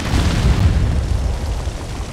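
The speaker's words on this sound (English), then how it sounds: "Explosion!" Explosion in the video game Conan Exiles during a raid, a dense low rumbling boom that fills the moment and slowly fades, alone without talk.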